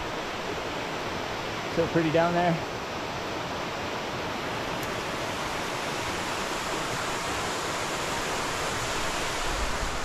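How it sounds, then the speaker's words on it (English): Water rushes down a small chute outdoors in a steady, close, broadband roar that holds constant, with someone speaking briefly over it near the start. "Love this little water chute here."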